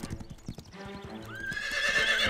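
Cartoon horse hooves clip-clop in a brisk rhythm, followed by a loud, close whinny that rises and trails off.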